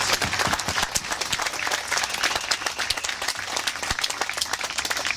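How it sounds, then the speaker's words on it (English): Crowd at a cancer walk fundraiser gives sponsors a round of applause: dense, sustained clapping from many hands, fairly close and even in level, with no talking over it. "let's give them another generous applause"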